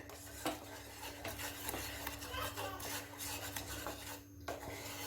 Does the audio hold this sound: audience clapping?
no